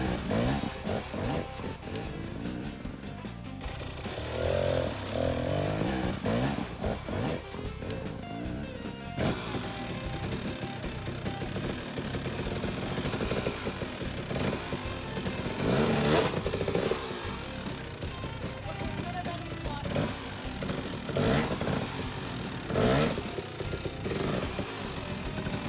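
A dirt motorcycle engine revs hard and steadily as the rear wheel spins and breaks traction on rough, gnarly off-road ground, with a near, continuous mechanical roar rising and falling in bursts over about twenty-five seconds.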